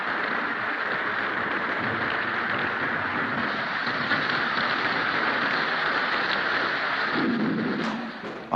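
Steady heavy rain with a deep rumble beneath, a dense unbroken wash of noise that eases slightly near the end.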